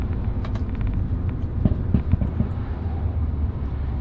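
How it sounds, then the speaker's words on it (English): A modded turbocharged BMW 135i drives along with a low, steady engine rumble and broadband road roar, distant crackles and pops rising briefly in the middle. "you can't go wrong with a modern turbocharged car, especially when it makes those kind of noises"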